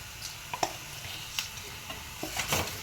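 Potato kurma being stirred in a pan with onions, scattered scraping and clinking strokes of a spoon over a low sizzle, no talking.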